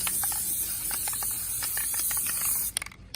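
Aerosol spray paint hissing as items are painted pink, a steady high hiss with short bursts and clicks of the nozzle, close and fairly quiet, stopping abruptly near the end.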